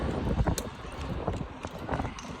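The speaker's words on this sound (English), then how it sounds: "There's a horse there, but no jockey." Horse hooves clip-clop in a steady, uneven rhythm on a road near the A19 towards Selby, against a busy background of road and engine noise.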